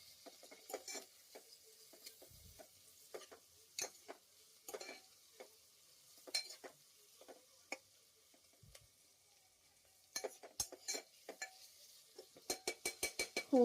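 Onion and green chillies sauté in a pan, a faint sizzle broken by irregular sharp scrapes and clicks of a spatula, with a quick run of taps at the end.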